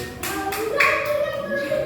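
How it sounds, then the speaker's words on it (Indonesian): Second-grade children clap hands in a classroom, a few rhythmic bursts of claps close by, mixed with children's voices. "Tepuk tangan."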